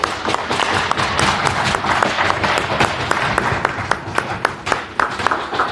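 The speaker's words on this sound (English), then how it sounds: "Stick taps and round of applause here from the rink" Stick taps and applause ring out at an ice hockey rink as an injured player heads to the bench, a steady patter of clapping with sharper taps cutting through, moderately loud and without talk.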